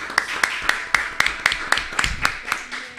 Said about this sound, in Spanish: un aplauso muy grande para el señor Agustín Chivo Rossi,